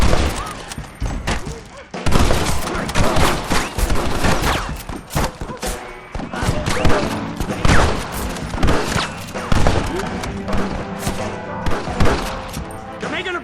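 A loud Red Dead Redemption shootout against snipers in windows: dense, overlapping volleys of gunshots and thuds fired in rapid succession, with shouting voices mixed in.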